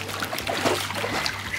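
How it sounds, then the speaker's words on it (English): Water splashes and trickles as a dog plays in a backyard swimming pool, biting at the splashes; steady close-up splashing continues throughout with no talk. "I love how Eleanor splashes on purpose to bite the splashes"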